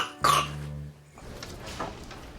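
A single sharp, chesty cough from a patient with a persistent cough, loud and close, followed by quieter breathy throat noises.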